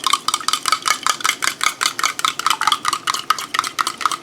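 Utensil stirring a breakfast scramble mixture in a bowl, a quick, steady series of close scraping clinks repeating roughly every fifth of a second, no voices.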